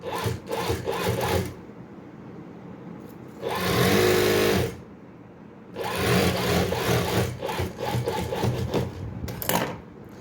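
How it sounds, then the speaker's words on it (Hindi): A sewing machine runs in loud bursts, stitching a straight seam on a baby frock, with three or four runs of rapid mechanical whirring separated by brief pauses. "कैप को हमने अस्तर के साथ इस तरह से यहाँ पे स्टिच कर लेना है, ये बिल्कुल सीधी सिलाई"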